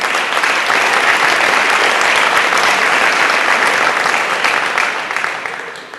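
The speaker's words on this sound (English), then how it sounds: "let's give our sponsors a big round of applause" Sustained applause from a banquet crowd honoring sponsors at an FFA awards banquet, a dense steady wash of many hands clapping at once, loud throughout and tapering off near the end.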